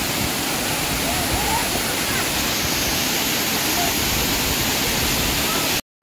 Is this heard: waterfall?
yes